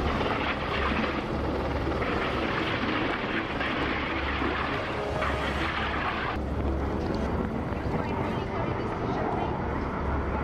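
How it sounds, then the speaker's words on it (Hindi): A NATO fighter jet roars loud and sustained during a naval and air force exercise on the Baltic Sea, a dense engine rumble that holds steady throughout. "नेटो के फाइटर जेट ऐसे ही गर्जना कर दुश्मनों को डराएंगे"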